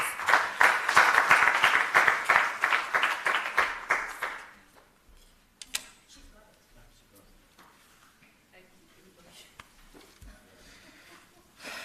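Seminar audience at a British Council university event applauding an introduced speaker, a loud burst of clapping for about four seconds that fades quickly, followed by quiet room noise and sparse sounds.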